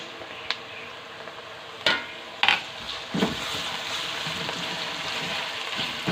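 Onions browned in a pan with garlic ginger paste, stirred and frying with a steady sizzle, scraping spoon strokes and a few sharp clinks against the pot, close and alone.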